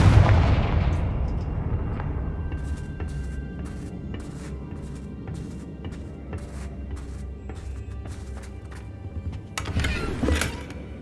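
In Hogwarts Legacy, a Confringo fire spell bursts with a heavy booming blast up front that fades into rumbling debris, followed by a series of sharp cracks and a second loud burst near the end.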